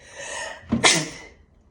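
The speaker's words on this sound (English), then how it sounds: "excuse me, I'm going to sneeze" A single close, loud sneeze with a short breathy intake before the burst, then quiet.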